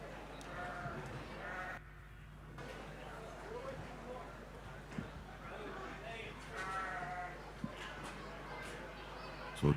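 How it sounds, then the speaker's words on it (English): Sheep at an agricultural show in Clonmany, several bleats rising over a busy outdoor crowd, with people talking nearby throughout and a few knocks and thumps. "So 12 sheep each."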